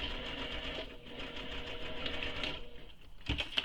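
A sewing machine back stitching a tote bag, running with a steady, fast mechanical whir at close range, then a brief pause and a short final burst of stitching.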